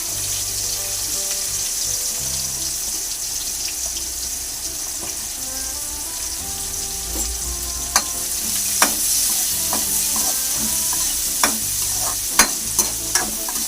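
Small shallots frying in oil in a pan for fried chicken gravy, a constant close sizzle with stirring scrapes and a few sharp clinks of a spoon against the pan near the end.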